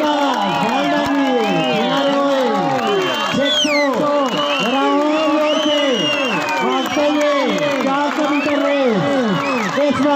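A large crowd cheers, whoops and applauds nonstop at a school sports gala during a four-lap 400 m race, with loud, dense shouting and clapping all the way through and voices calling out close by.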